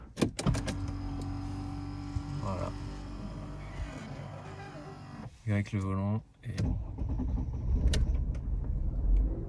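A Mercedes S-Class car running on ethanol, with electric motors whirring as it goes through its start-up sequence, followed by the engine cranking and catching into a rising rumble as someone speaks briefly in French.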